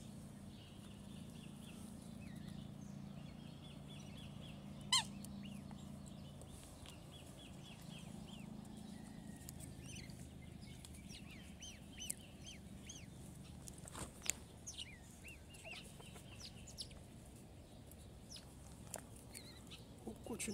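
Ducks and other waterfowl at Western Springs Lakeside Park in Auckland, New Zealand, give repeated short calls and chirps over a steady low outdoor rumble, with a few sharper knocks scattered through.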